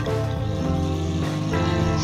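A heavy off-road truck engine in the snowy off-road driving game SnowRunner rumbles steadily and loudly, a continuous deep drone with shifting tonal layers throughout and no talking.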